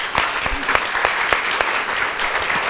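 A studio audience applauds a departing guest on a French talk show, a moderately loud round of distinct, fairly sparse claps with sharp individual hand strikes standing out over a steady clapping bed.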